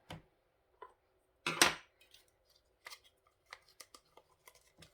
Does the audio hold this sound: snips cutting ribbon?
yes